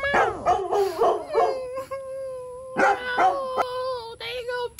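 Dogs bark and howl close by in a series of loud, pitched outbursts separated by short pauses, with whining and wailing tones between the barks.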